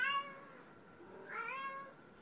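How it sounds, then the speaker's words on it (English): A pet cat meows twice indoors, soft drawn-out cries separated by a brief pause, faint against a quiet room. "I apologize for my cat."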